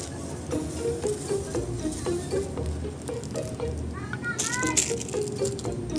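Onion and garlic sizzle and crackle in a pan while someone talks over the cooking, with utensil rattles and stirring noises throughout.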